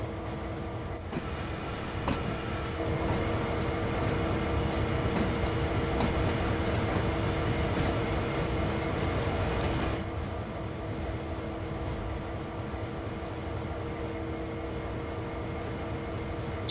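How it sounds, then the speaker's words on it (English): A train engine in the railway simulator game Train Sim World 2 hums and rumbles steadily with an open cab window, wheels squealing and clattering on the track, the sound swelling and then easing slightly toward the end. "I'll listen to that beautiful engine."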